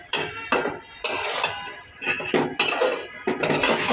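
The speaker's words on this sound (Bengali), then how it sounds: "আলু দিয়ে এখন কষাচ্ছি" Potatoes being stirred in a cooking pot for a curry gravy after tomatoes, with repeated loud scraping clanks of a utensil against the pot in an uneven rhythm, close up and without talk.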